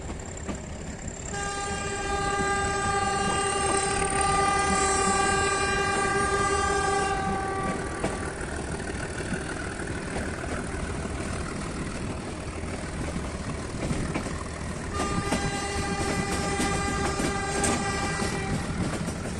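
A metre gauge passenger train on the Bahraich to Nepalganj line sounds its horn in long sustained blasts, heard from inside an empty coach over a steady rumble of wheels on the track.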